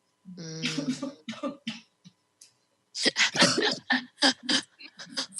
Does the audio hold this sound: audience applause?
no